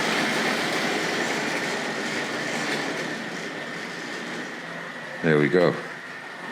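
A Tri-ang model railway Britannia locomotive runs steadily along the track with a continuous rolling whir, then eases to a stop between two sets of points while someone speaks briefly near the end.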